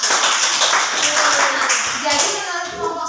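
A group claps in a short burst of applause, fairly close, with voices mingling under it.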